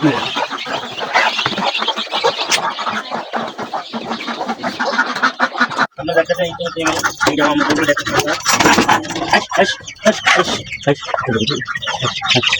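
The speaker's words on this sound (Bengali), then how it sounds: "এখানে অনেক ধরনের মুরগি আছে" Farm chickens, including native hens and chicks, cluck and squawk continuously at close range, a dense, busy chorus with some scratching and occasional voices mixed in.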